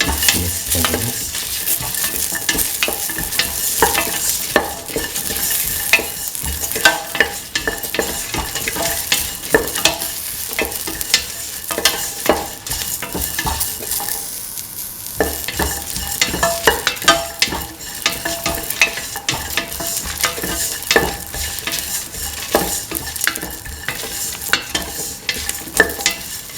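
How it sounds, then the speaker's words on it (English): Garlic stirred and frying in a pan for a lentil, carrot and rice stew, a steady close sizzle with repeated scraping strokes of the spoon throughout, no voices. "Put in the garlic. Mix thoroughly."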